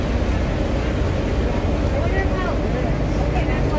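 A steady, loud low-pitched engine rumble with water wash, the drone of a ferry motor running continuously up close on Lake Havasu.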